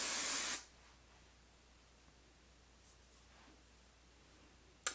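A short, loud burst of hairspray hisses onto curly 3a/3b hair for about half a second, then only quiet room tone follows with a faint click at the end.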